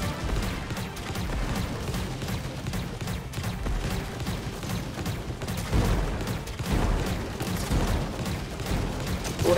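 Turret gunfire in the run-and-gun video game Contra Operation Galuga, a dense, continuous barrage of shots and blasts at a steady loud level throughout.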